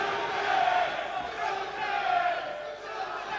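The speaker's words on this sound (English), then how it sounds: "And the crowd momentarily on their feet." A boxing arena crowd at a WBO super welterweight title fight roars in a sustained, swelling wave of cheers and shouts, rising and falling steadily throughout with no pauses.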